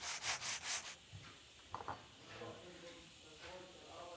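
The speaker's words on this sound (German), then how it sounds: "Ganz wichtig, immer wieder nachschleifen" Wood is sanded by hand while building a wicker beach chair, with a few quick rasping strokes up front followed by quieter scattered rubbing and faint handling noises.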